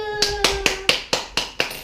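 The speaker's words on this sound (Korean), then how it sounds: "박수!" A small group in a home cooking studio claps in a crisp, regular rhythm after a cheesecake baked in a pot, without an oven, is presented: seven sharp, evenly spaced claps, with a voice briefly heard at the start.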